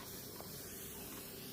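Water spritzed from a spray bottle in a hobby craft session gives a steady, close hiss that runs without a break for the whole moment, with no talking over it.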